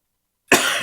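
A single sharp cough bursts out after a moment of silence, close and loud, with a short rough tail.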